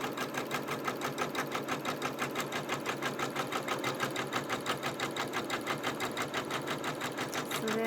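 Embroidery sewing machine stitching along the edges of a quilt in the hoop, a fast, steady mechanical needle rhythm running close and continuous with no talking.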